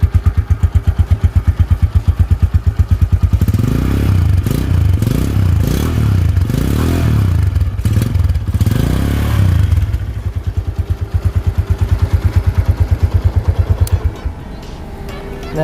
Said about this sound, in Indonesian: kalau ciri khas dari Tiger Revo knalpotnya itu memang bassnya itu kedengeran banget ya